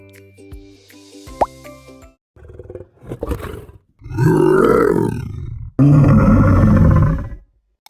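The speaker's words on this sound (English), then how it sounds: "It's a big lion. Lion sound name is roar." A big lion roars in two long, loud, rough bursts after a few brief plops and grunt-like sounds, with no talking.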